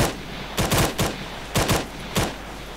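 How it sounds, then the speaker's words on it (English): Arma 3 gunfire in a military fire-and-movement drill, firing into smoke: several sharp bursts of rapid shots in quick clusters over a low steady hum, loud and close, with no talking. "I'm just firing into the smoke,"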